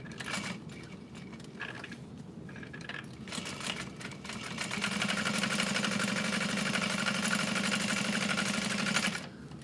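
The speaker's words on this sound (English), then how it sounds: "And then I'm sewing around all 4 sides." A sewing machine stitches around the sides of an olive vanity bag, starting with a few short bursts, then running steadily and close for about five seconds with a steady mechanical whir before stopping.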